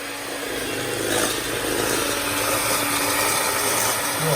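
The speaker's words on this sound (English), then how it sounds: "Loud noise now. We're mixing." An electric mixer whirs steadily through sugar and peanut butter for flourless cookie dough, a loud, continuous motor drone with a grinding edge, close up and alone.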